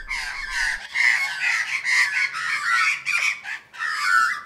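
Australian magpies call loud and close in a rapid, warbling chorus, several birds calling at once with brief pauses between bursts.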